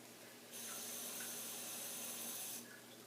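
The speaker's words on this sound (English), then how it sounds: "I'm actually going to add another 1/2 cup of liquid." Liquid pouring steadily into a batch of rebatched soap, a faint continuous splashing stream lasting about two seconds, starting and stopping cleanly against a quiet indoor background.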